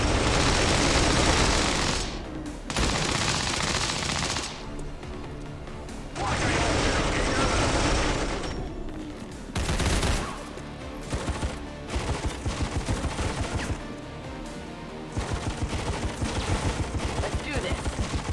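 Rapid bursts of automatic gunfire in the turn-based strategy game XCOM 2, loud rattling volleys alternating with short pauses, some single cracks, and a voice speaking over parts of the fighting.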